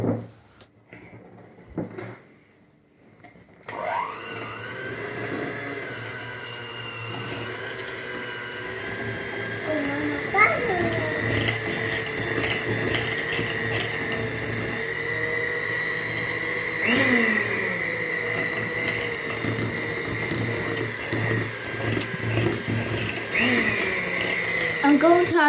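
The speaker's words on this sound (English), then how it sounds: "I'm going to cream the butter and sugar together." An electric mixer creams butter and sugar together for a raspberry and white chocolate loaf cake, whirring steadily and loudly for over twenty seconds after a brief quiet start, with rattling, pitch-shifting mechanical tones throughout.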